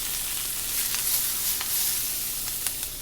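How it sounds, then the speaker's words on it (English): Diced onions sizzle in extra virgin olive oil with a constant bright hiss and scattered crackles, close up and with no talking. "So we got some extra virgin olive oil. We're going to throw in some diced onions."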